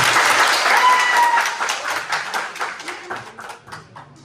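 Wedding guests at a civil marriage ceremony in Zonguldak applaud the couple; brisk, crisp clapping starts full and gradually thins and fades toward the end.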